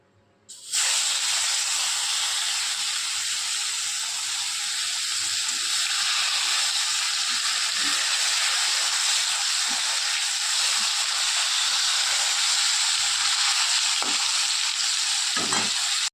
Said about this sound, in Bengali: তেল গরম হয়ে গেছে, ভেজে নিই।